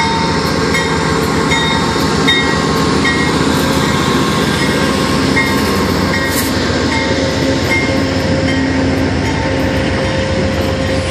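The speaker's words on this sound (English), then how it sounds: "Yeah, we got Amtrak 50 departing." Amtrak train 50, led by locomotive 189, departs Charlottesville, Virginia station, a loud close continuous rumble of wheels and cars with rhythmic clatter and engine drone throughout.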